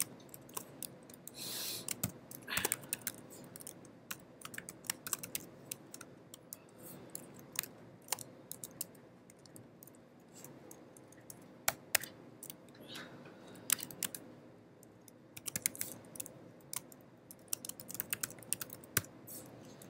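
Go code is typed on a computer keyboard in a long run of close, crisp key clicks with uneven bursts and short pauses, and no talking.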